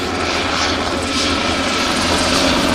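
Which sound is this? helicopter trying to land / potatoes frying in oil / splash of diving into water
helicopter trying to land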